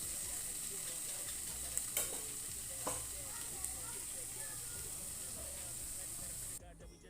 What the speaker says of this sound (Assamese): এইখিনি মই আকৌ ধুনীয়াকৈ ভাজি ল'ম।